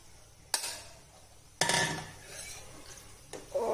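A spoon scrapes and clanks against a pan while mashed paneer is mixed into cooked vegetables, three sharp metallic knocks with softer stirring scrapes between them, close and fairly quiet, with no talking.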